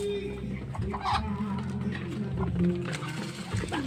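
Backyard free-range chickens clucking and murmuring nearby, a steady low flock chatter with a person talking over it.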